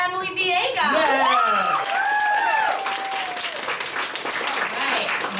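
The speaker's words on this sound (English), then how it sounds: "let's give a big round of applause for Emily Villegas." Audience applause and cheering fill an office party show, dense broadband clapping sustained throughout, with whooping voices and a few shouted calls rising over the crowd near the start.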